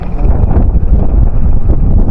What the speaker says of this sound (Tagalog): lakas ng hangin. Malamig pa.